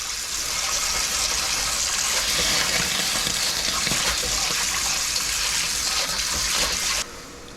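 Water running hard into a wok being scrubbed in a kitchen, a loud steady rush with scraping texture that cuts off abruptly near the end.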